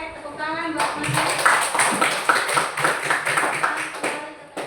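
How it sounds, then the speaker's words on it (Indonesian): Classmates applaud together in a classroom, a dense burst of many hands clapping that starts after a brief bit of speech and carries on steadily at close range. "Oke, tepuk tangan buat teman-teman."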